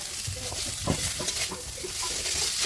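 Chow mein noodles go into a hot pan with frying onion and egg. A loud, steady sizzle is broken by scraping stirs, and a voice talks under the cooking noise.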